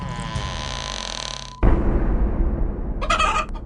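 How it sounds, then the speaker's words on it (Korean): Chickens cluck and call in a short, loud burst that breaks in suddenly after a sustained tonal sound, followed by a brief higher squawk near the end. "닭의 울음소리만이 들릴 뿐이었죠."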